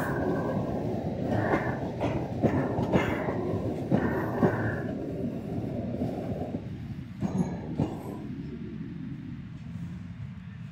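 A Sarmiento line third-rail electric train rumbles through Moreno station, with rolling wheel noise, rhythmic rail clacks and brief squeals, fairly close and steady before easing off toward the end.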